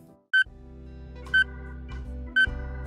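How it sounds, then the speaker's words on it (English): In the aquarium-building video game Aquarium Designer, a speed test sounds three evenly spaced electronic beeps, each short and clear, about one second apart, over a quiet low background hum. "What is beeping? Oh, it's a speed test."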